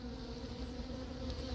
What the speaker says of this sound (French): Ouais, il y a beaucoup d'abeilles dessus, hein.